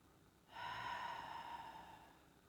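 A long, steady breath pushed out through the mouth during a guided breathing exercise, soft and close, swelling quickly then fading over about two seconds, with no talk over it.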